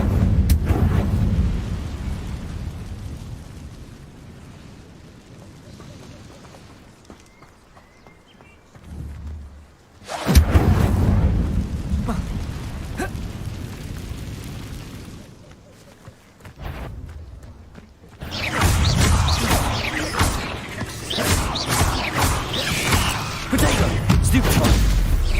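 Incendio fire spell blasts in the Hogwarts Legacy video game, loud bursts and roaring whooshes arriving in separate waves with quieter gaps between.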